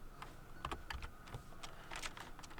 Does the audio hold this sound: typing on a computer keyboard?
yes